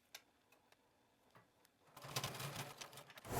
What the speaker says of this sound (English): now we're going to top stitch along this edge of the outside edge of our zipper binding